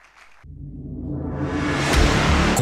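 An audience at a sermon during an international Bible conference breaks into applause and cheering, rising abruptly from near silence into a broad, swelling roar that grows louder and fuller over two seconds.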